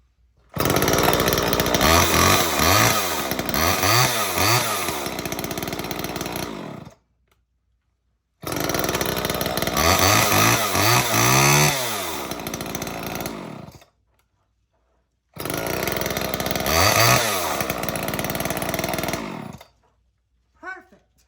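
A chainsaw starts from cold during cold start practice and runs in three loud bursts of several seconds each, with the engine revving up and down and short quiet pauses between runs.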